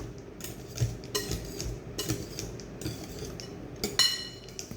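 A utensil mixing banana blueberry cake batter in a bowl, close clinks and scrapes in an irregular rhythm with a few sharper knocks against the side, with no talk.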